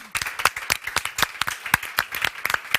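An audience applauds a conference panel, with a brief patter of scattered hand claps at moderate volume and no talk over it.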